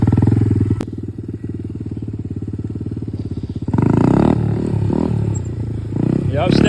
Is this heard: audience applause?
no